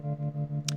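A single guitar voicing panned hard to one side plays a short pulsing chord with rhythmic tremolo-like swells, moderately quiet and alone, ending in a brief bright tick.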